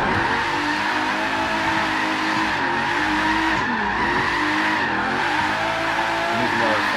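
The 877 hp, roughly 4,000-pound Regalia in Forza Horizon 3 is clutch-kicked into a sideways drift. Its engine drones loudly and its tires squeal steadily while a voice talks over it.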